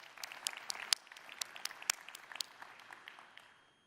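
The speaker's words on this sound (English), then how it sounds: "Yep, give a hand of applause." Light, scattered clapping from a small audience at a Xiaomi launch event for smartwatches and earbuds, with individual sharp claps, fairly faint and soon fading out.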